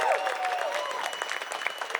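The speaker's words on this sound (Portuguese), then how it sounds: "queria pedir uma salva de palmas para a nossa comandante, Carlota Míngola" Audience clapping for a chief of staff at the launch of a city culture program, a moderate, slightly distant patter of hands mixed with faint crowd voices and a few whistles.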